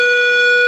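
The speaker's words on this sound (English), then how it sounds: "The buzzer has gone behind us" A steady electronic buzzer sounds at a football match in an invitational competition, a loud continuous tone held without a break for under a second, with no talk over it.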